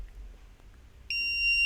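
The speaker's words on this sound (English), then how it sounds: "So that is our electronic alarm" A homemade electronic alarm abruptly switches on into a loud, steady high-pitched tone, with overtones, after a second of low background hum.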